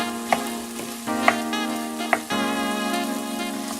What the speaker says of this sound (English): So now we're adding the carrots in, and make sure you spread your carrots evenly through the mixture of meat